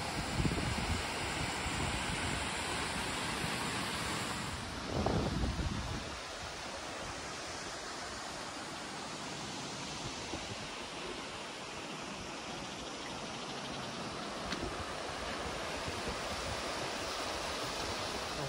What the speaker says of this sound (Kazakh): Мынау екінші сарқырама, осы жердегі Вебстер сарқырамасы.